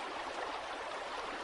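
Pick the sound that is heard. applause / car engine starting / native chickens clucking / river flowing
river flowing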